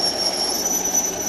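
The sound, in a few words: Thomas train moving at Bure Valley Railway, started by button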